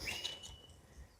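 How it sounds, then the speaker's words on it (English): Faint, scattered high calls and squawks from parrots at a distance at a campground, brief and irregular over a low outdoor rumble. "the parrots are still here"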